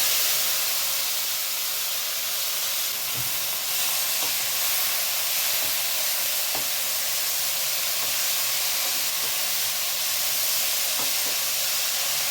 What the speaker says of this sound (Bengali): এবার গ্যাসটা আমি একদম কম করে দেব, দিয়ে আমার এই ভেন্ডি মেখে রাখা মশলাটা এর মধ্যে ছেড়ে দেব